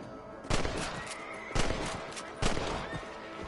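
Three rifle gunshots fired at rabbits in Red Dead Redemption, sharp cracks spaced about a second apart over a quiet outdoor background.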